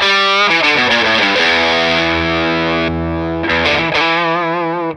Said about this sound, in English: And you boost with the Dane into the Warthog.